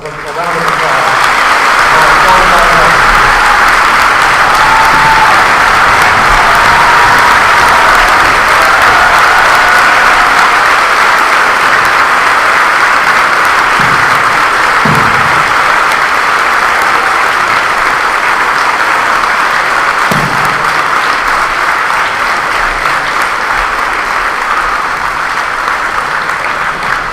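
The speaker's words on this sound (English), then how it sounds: "One more hand, a round of applause." Sustained applause from a large audience at a Veterans Day service in a high school, loud and steady throughout, with faint voices underneath.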